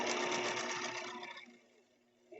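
A sewing machine stitches the seam of a simple pillow, running loud and steady for about a second and a half before slowing and stopping, with a faint click at the end.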